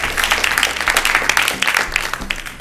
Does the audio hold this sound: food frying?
no